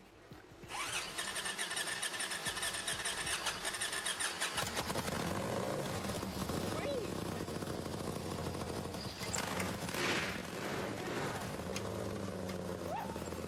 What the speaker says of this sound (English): It sounds like you got the blower started.